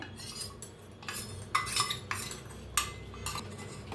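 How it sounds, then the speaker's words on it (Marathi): A utensil stirs custard into milk in a pan, making repeated metallic scrapes and clinks at a steady pace, close and fairly quiet, with no voices. "ते मी मिक्स करत राहाय सारखं हलवत राहायचं"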